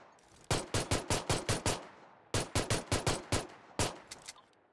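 Gunfire in the PUBG video game comes in rapid bursts of sharp, loud shots: a run of about seven, a pause, another run of about six, then a few scattered shots near the end.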